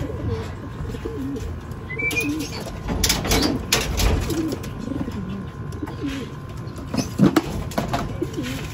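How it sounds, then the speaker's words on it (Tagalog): A racing pigeon coos on arrival home from a training flight in Cuyapo, Nueva Ecija, with soft repeated calls and faint chirps over steady outdoor ambience. "Guys, unang ibon natin ito. Yun, first bird natin"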